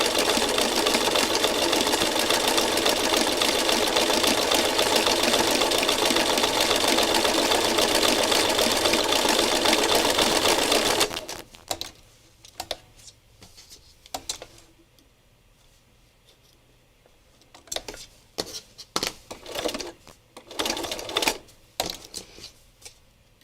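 A sewing machine stitching forward whirs loudly and continuously at close range for about eleven seconds, then stops, leaving scattered clicks and handling noises of fabric and the machine.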